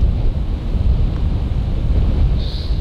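Strong wind gusts out on an open golf course, buffeting the microphone as a loud, steady roar with no clear breaks and no speech.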